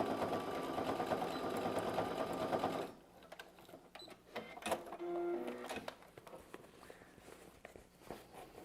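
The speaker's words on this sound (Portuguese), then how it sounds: "vai costurar com um pé de máquina, uma costura bem reforçada" Sewing machine stitching a reinforced seam on a fabric bag, running loudly and steadily for about three seconds, then stopping, followed by clicks, taps and handling sounds.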